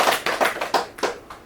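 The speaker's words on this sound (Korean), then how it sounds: "박수 한번 치워주실까요?" Rhythmic hand clapping from a gathered audience at a Buddhist dharma service, five or six distinct sharp claps in a steady beat, close and fairly loud with no talk over them.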